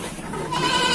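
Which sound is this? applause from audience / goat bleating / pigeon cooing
goat bleating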